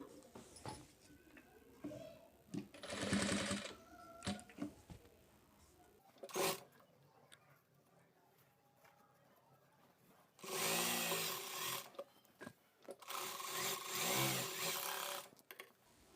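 A sewing machine stitches double-folded fabric for a katori blouse in several loud, close bursts of motor buzz separated by pauses, with a voice talking in the quieter gaps.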